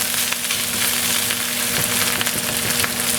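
Sea urchin (uni) fries in oil and butter in a pan, giving a steady, close, dense sizzle that continues evenly with no talking.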